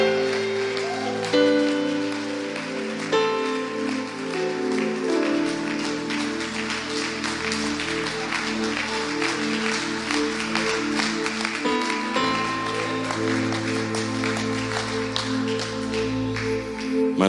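Church congregation applauding, a steady wash of clapping sustained throughout under music with held organ-like tones.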